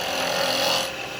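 A woodturning tool takes a scraping cut along a curve on a spinning piece of seasoned wood for a miniature cowboy hat, a steady close rasping hiss that holds for about a second before easing off.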